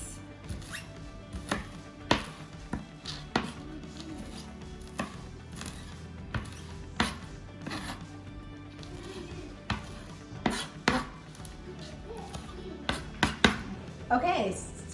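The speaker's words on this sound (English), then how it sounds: "we are going to just use the knife to cut it up in some smaller pieces" A knife chops fresh herbs on a cutting board for corn salsa, giving quiet, irregular taps and knocks that come in short clusters at close range over a low background hum.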